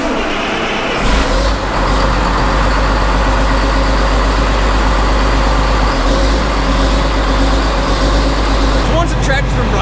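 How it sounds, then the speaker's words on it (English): A Challenger tractor engine runs steadily at idle, with a deep constant low hum and rumble throughout, loud and near, with brief hiss-like bursts at the start and end. "Tractor's been running for about 5 minutes."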